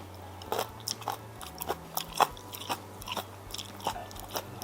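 Close, crisp crunching bites and chewing of Korean pickled old cucumber (nogak jangajji), about eight sharp crunches at an uneven rhythm over a quiet background hum.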